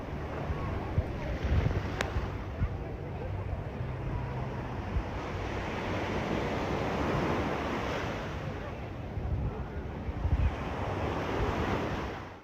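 Ocean surf rolls in continuously at Waikiki Beach in Honolulu, a broad steady wash of breaking waves mixed with gusty wind buffeting the microphone, with no voices heard.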